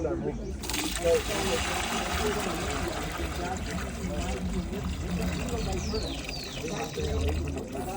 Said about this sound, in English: No, because the water is in the center and then, boom, falls straight down.